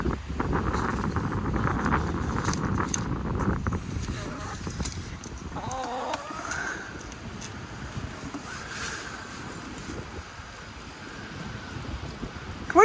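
Gusty wind buffets the microphone in rough, uneven rumbles around a backyard chicken coop, stronger at first and easing later, with a person talking softly now and then.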